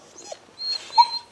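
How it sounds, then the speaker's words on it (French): A dog somewhere outside an old washhouse in Anjou gives a couple of faint, short, high yips or barks, distant and quiet against near silence. "Elle entend un chien."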